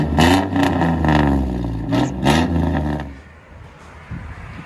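A 2002 GMC Sierra with a 4.3L V6 and straight-pipe side-exit exhaust revs hard: two loud, raspy blips close by, then the engine drops back to a low, lumpy idle.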